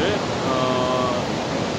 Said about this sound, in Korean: 이곳은 목모랑시 폭포공원의 멋진 폭포입니다